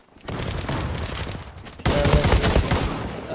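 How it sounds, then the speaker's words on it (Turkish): M1 Garand rifle gunfire in an online shooter, a sharp crack leading into sustained loud firing, then a second heavier burst of shots near the end, with no talking. "Silah sesi çok güzel ya, ben silah sesini sevdim"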